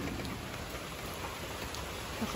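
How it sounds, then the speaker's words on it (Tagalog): Steady, dense rain pours down continuously with an even hiss and patter of drops on surfaces, no voices. "Lakas ang ulan."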